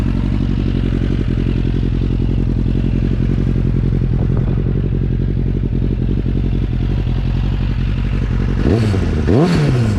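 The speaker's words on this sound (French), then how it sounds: "je vais la démarrer, je vais vous faire entendre la sonorité un petit peu du véhicule" A Suzuki 600 Bandit motorcycle engine of 34.5 hp idles with a steady, throbbing rumble, loud and close, then blips into two sharp revs near the end.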